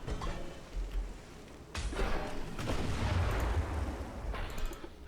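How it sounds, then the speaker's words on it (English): Battleship 5-inch naval guns fire in Ultimate Admiral Dreadnoughts, heard as muffled, rumbling booms and a broad roar of overlapping salvos at moderate volume. "Yeah, all the guns on the front half can fire. All the 5-inch guns."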